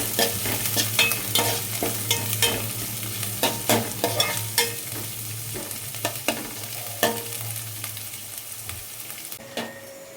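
Garlic frying in a pan for garlic chilli chicken, a dense continuous sizzle close up, punctuated by frequent sharp stirring taps and scrapes, with no one speaking.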